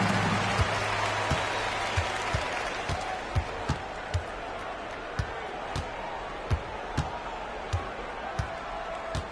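Steady crowd noise fills an NBA 2K23 arena during a Lakers vs. Mavericks regular-season game, with sharp ball bounces or thuds punctuating the roar at regular intervals.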